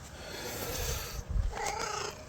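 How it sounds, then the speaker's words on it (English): A stray cat purrs softly and steadily up close, a low rumbling hum with a few faint rustles and small vocal sounds near the end. "Listen to you purr."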